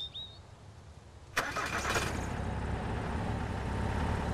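A car engine in the video game Mist Survival cranks and fires up with a sudden burst, then settles into a steady, rumbling idle.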